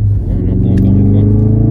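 Stock 350 hp Ford Focus RS engine idling and revving up close, a steady deep rumble with harmonic engine tones throughout, while a voice speaks faintly underneath.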